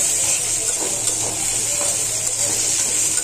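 Hilsa fish heads stir-fried with onions in a pan give a steady, close sizzle with faint scraping of stirring underneath, continuous and even with no talk.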